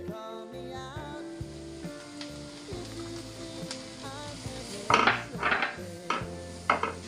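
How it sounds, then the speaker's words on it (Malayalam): Grated carrot being sautéed in a pan, heard as a light sizzle under steady background music, with scraping and clinking of a spoon against the pan growing louder toward the end. "ഇതൊന്ന് വഴറ്റി കൊടുക്കണം"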